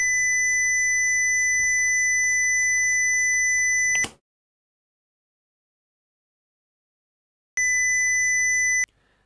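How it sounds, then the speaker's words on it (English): A steady electronic 2 kHz beep from a Clybot C6 self-balancing robot holds for about four seconds, cuts to silence, then returns briefly for just over a second before stopping. "Clibo C6 beeps at 2 kilohertz if ambient sound is low."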